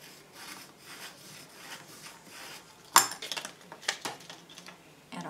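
Bone folder rubbed over a folded cardstock Valentine box, quiet dry scraping strokes that turn into a louder burst of brisk rubbing and swishes partway through.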